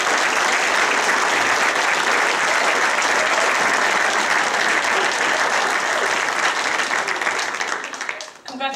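A hall of fame audience applauds the nominees and shortlisted candidates with sustained, dense clapping that fills the hall and stays loud before fading near the end.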